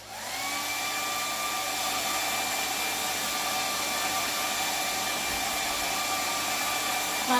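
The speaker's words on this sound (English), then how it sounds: "you're going to dry them off with your hair dryer" A hair dryer drying paint on butterfly paintings blows steadily and loudly throughout, a constant whooshing hum with a faint high whine and no talking.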